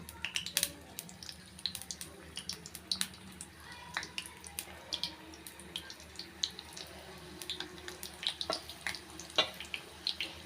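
Spoonfuls of pakoda batter fry in hot oil, giving a steady fine crackle broken by frequent sharp pops and spits, all fairly quiet and close with no talking.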